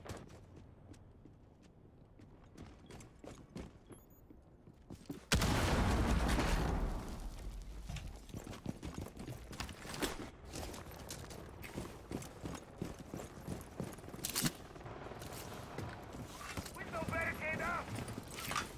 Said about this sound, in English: So we hear gunshots already.